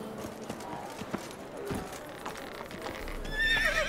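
Roach, the horse in The Witcher 3, whinnies amid the clip-clop of hooves, with a faint ambient background and a shrill, rising neigh near the end.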